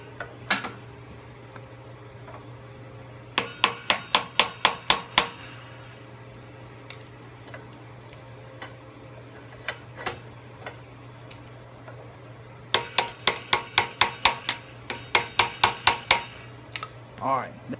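Flywheel of a Briggs and Stratton 5 HP engine on a Snapper, spun by hand during no-spark ignition service. It gives two bursts of rapid, slowing clicks over a steady low hum, with quiet gaps between.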